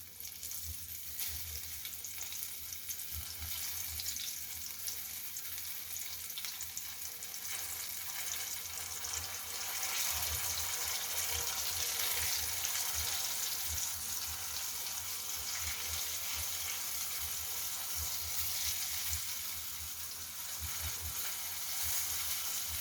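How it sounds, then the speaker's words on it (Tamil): Hotel-style chicken pieces frying in hot oil give a loud, steady, close-up sizzle with crackling bursts that carries on without pause, and no voices are heard. "இதை நம்ம அப்படியே ஆயிலில் போட்டுற வேண்டியதுதான்"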